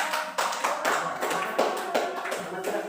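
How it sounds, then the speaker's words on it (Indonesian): A whole class of students clapping their hands together in a classroom, a dense, fairly even patter of many claps with regular pulses running throughout. "Ya, tepuk tangan dulu."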